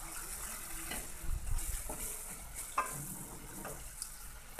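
Finely chopped onion sizzles in oil while being stirred in a pan for paneer curry, producing a soft steady frying hiss with a few scraping strokes, quiet and close.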